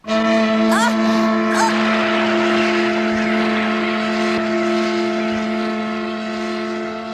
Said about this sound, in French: Le moteur est encore en état de marche.